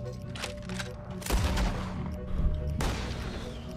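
Video game gunfire comes in sharp broadband bursts, a loud cluster at about a third of the way in and another near the end, over a steady low background rumble with no talk.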